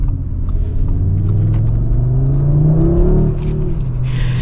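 A 2026 Audi RS3 engine accelerates with a loud, deep rumble that climbs steadily in pitch as the car builds speed, close and continuous.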